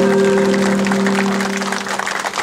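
Steady applause at a podium ceremony for the Polish road cycling champion in Sobótka, clapping fairly close over a sustained tone from the sound system and fading slightly toward the end.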